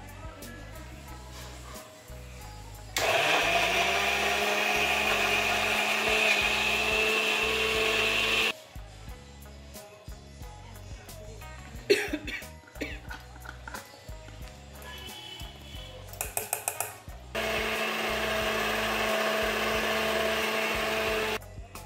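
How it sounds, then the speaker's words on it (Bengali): Electric blender grinding chopped garlic and ginger together for a mutton curry, a loud steady whirring drone in two long bursts separated by quieter kitchen handling sounds and clatter. "একটু রসুন কুচি আর আদা কুচি। দিয়ে একসাথে বাটবো।"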